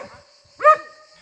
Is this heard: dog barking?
yes